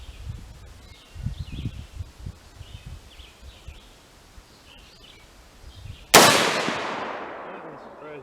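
A single sharp rifle shot from a PTR 91 GI cracks loudly at close range outdoors and rings out in a long decaying tail, preceded by quiet rustling and low murmuring voices.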